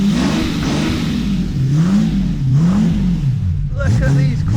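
A Jaguar E-Type Series 3 engine revs loudly through its quad-pipe exhaust, close up, the pitch rising and falling in several swells over a steady deep rumble.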